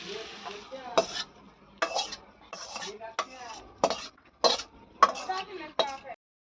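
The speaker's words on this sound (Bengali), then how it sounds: "তো শাক ভাজা হয়ে গেছে, এবার নামিয়ে ফেলছে মা" Fried leafy greens (shak) stirred in a pan and scooped out in a home kitchen, a series of distinct scraping and clinking utensil strokes roughly every half second over a faint sizzle, fairly quiet with no talk.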